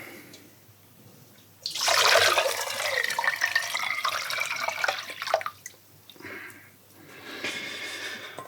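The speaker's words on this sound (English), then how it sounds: "Now we're gonna add the cold water." Cold water from the tap pours into a chilled bowl of salt water, a loud rushing splash that runs for several seconds, briefly stops, and then starts again more softly.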